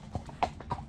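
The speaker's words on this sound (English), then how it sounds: "The golden horse is now coming to the first turning." Horse hooves clip-clop on a road during a tackless hack, three or four distinct close hoofbeats in a steady walking rhythm with no talking.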